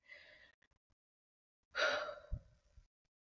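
A person draws in a quick breath, then there is a pause and a deeper, audible inhale with a short exhale after it, close and quiet, with no talking.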